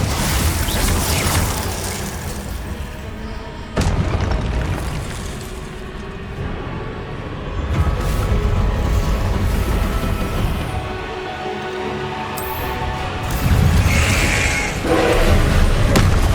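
Repeated Confringo spell blasts in Hogwarts Legacy, loud booming explosions with heavy low rumble recurring every few seconds amid continuous combat noise.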